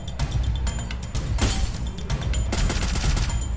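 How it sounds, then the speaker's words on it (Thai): Point-blank gunfire in a shooting video game comes as loud, rapid bursts of shots close to the listener, mixed with busy game noise and no talking. "ขอยิงแบบระยะจ่อๆหน่อยเผาขน"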